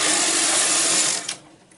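A knitting machine carriage sliding across the needle bed to knit one row, a close continuous mechanical whirring rasp that ends abruptly near the finish.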